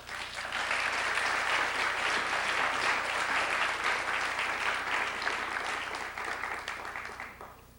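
A sustained round of audience applause welcoming Frank Raines before an address on defense reform and budgetary matters, dense steady clapping that swells quickly, holds for several seconds and tapers off at the end.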